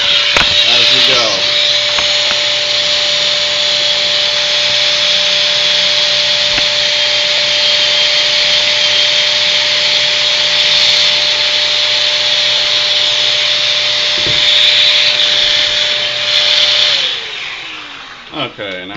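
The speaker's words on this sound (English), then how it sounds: "I've got my shop vac here, which I'm going to turn on and just suck the dust" A shop vac roars steadily and loudly for a long stretch while sucking up sawdust during piano tuning pin replacement, with a constant tone and occasional rubbing noises, before it winds down near the end.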